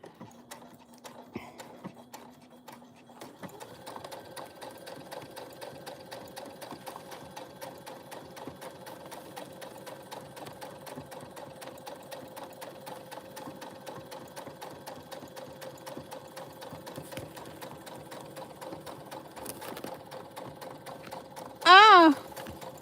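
A sewing machine stitches a bag in a long, steady, quiet run of rapid needle clatter, with a short sharp burst near the end.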